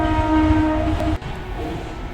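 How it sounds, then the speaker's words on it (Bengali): A train sounds its horn in a long, steady blast nearby, then rumbles past with a low, rolling clatter of wheels. "পাশ দিয়ে ট্রেন যাচ্ছে, ট্রেনের আওয়াজ শোনা যাচ্ছে।"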